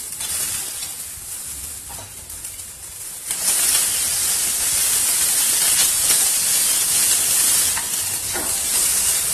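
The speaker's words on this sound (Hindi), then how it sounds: "अब हम इसमें गाजर डाल देंगे अपनी। इन्हें फ्राई करेंगे।" Carrots fry in hot oil in a pan with a soft hiss that jumps to a loud, steady sizzle partway through and holds, with faint stirring noises and no talking.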